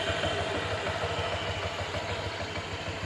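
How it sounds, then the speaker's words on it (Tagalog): A 2023 Honda Click version 3 scooter engine idles close by with a steady, even low putter and a light mechanical clatter, no voices. "napakinggan nyo yung tunog ng aking ano, Honda Click version 3 2023 model"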